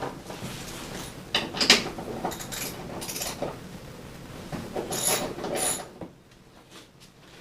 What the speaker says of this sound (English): now remove the side bearings for everything. For that, you're going to need your 1/2 inch socket.